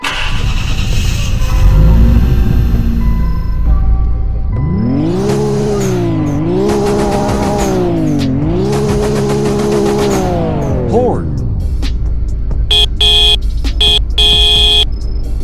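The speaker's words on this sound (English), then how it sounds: "Start up and revs." A Nissan Skyline GT-R R34 Z-tune engine starts and settles into idle, then is revved twice in long rising and falling sweeps before dropping back to idle, with short beeping tones at the end.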